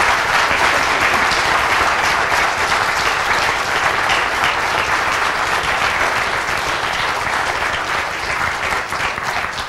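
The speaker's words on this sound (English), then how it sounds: "as we applaud once again these two students" An audience applauds two student winners of the 2017 National History Day; dense, loud, continuous clapping fills the whole stretch with no speech.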